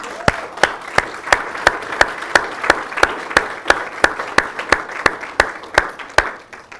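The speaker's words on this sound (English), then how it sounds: "please join me in giving them a round of applause" Steady clapping from an audience, sharp individual claps in a fairly regular rhythm over a soft wash of applause, lasting several seconds.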